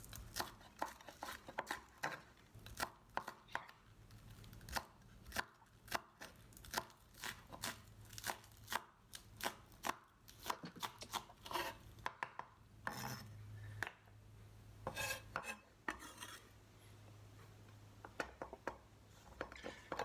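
A knife slices green scallions finely on a board, giving a quick run of close, crisp chopping taps with small rustles between them. The taps sometimes pause briefly, and a faint low hum sits underneath.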